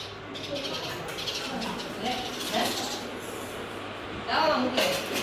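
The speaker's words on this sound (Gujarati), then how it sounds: "જો ચકલા આવ્યા જો ચકલા આવ્યા" Sparrows arriving at a nest box set out with water and grain, giving faint scattered chirps against a broad background hiss, with a voice speaking nearby.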